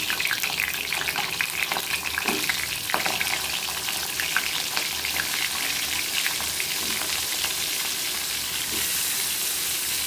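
Hilsa fish head frying in a pan with turmeric and chili, a steady hissing sizzle with occasional stirring scrapes and clinks, fairly close.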